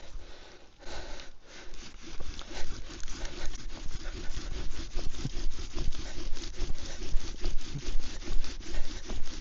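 Bow drill spindle burning into a wooden socket, a steady rhythmic back-and-forth grinding rasp close up, building louder and faster over several seconds without talk.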